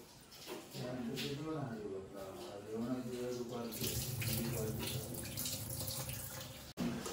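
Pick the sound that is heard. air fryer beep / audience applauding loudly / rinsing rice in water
rinsing rice in water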